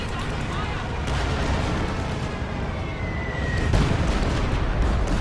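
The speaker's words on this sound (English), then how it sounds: "Priest firing in this radius, doing a little bit of damage here" Priest self-propelled artillery shells firing in a World War II real-time strategy game, dense rumbling booms and gunfire under a caster's fast commentary, with a heavier blast near the end.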